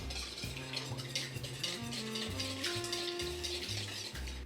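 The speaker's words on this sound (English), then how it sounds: "Whisk together ingredients." A whisk beats thick cream and quiche ingredients in a bowl, making a continuous soft, rhythmic scraping and churning. The strokes rise and fall in pitch against the bowl.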